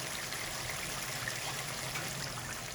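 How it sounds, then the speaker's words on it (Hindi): Water poured from a glass into a pan of masala fish curry gravy, a steady continuous trickling splash close by with no talk. "अब हम इसमें पानी डालेंगे इस मछली में।"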